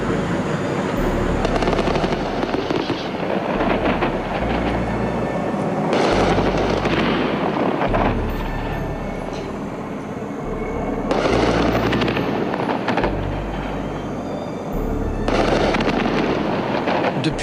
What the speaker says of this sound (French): Balles traçantes, grenades assourdissantes et rafales de mitrailleuses.